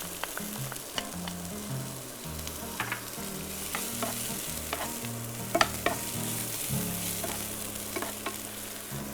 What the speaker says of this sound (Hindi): ये लीजिए, ये मेरा गार्लिक गया सारा पैन में